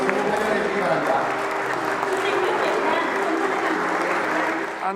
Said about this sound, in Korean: 모두 자리에서 일어나 박수로 환영해 주기 바랍니다.